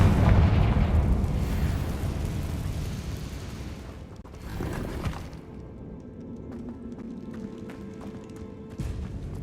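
The Confringo blasting spell erupts as a loud explosion in Hogwarts Legacy, its booming rumble fading over several seconds before a second, smaller blast bursts out midway, followed by softer rumbling debris.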